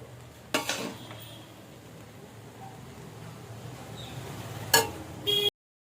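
Fried rice with carrots, beans, cashews and raisins stirred in a pan, mostly quiet low hiss with two brief loud scraping clatters of a spatula against the pan, one early and one near the end.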